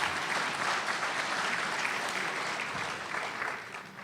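Steady audience applause at an event honoring a Top Gun: Maverick pilot and air boss, a dense, even wash of many hands clapping from start to finish, easing slightly toward the end.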